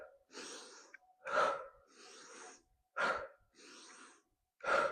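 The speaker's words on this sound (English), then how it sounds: "Here we go, breathe with me." Deep, rhythmic breaths during a core and pelvic floor workout: three sharp, loud inhales alternating with three longer, softer exhales, close up and with no talking.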